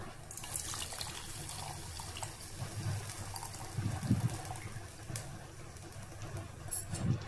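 Milk pours into tea being made in a pot, a continuous close liquid gushing and splashing with a few louder surges, heard alone.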